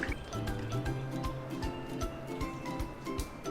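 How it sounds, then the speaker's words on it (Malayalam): Water is poured into a mixer jar holding rice, making close, soft splashing and dribbling sounds over light clinks against the jar. "കുറച്ച് വെള്ളം ഒഴിച്ച് കൊടുത്തിട്ടുണ്ട്."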